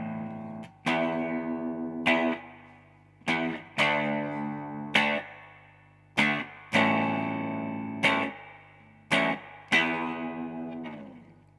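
An Electro-Harmonix Bad Stone phase shifter pedal set to a fast rate colours a series of about nine sharply struck guitar chords. Each chord rings, swirls and decays in an uneven rhythm, close and clear, with no talking.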